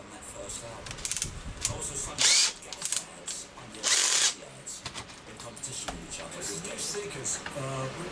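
A power drill or driver sets old black screws into a workshop fixture, whirring in short bursts, with two louder, longer spins near the middle amid background clatter.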